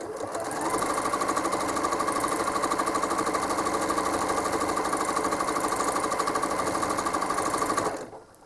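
A home sewing machine runs steadily for about seven seconds while machine-quilting leaf shapes along a quilt border, a fast, even mechanical whir and needle chatter that starts abruptly and cuts off at the end.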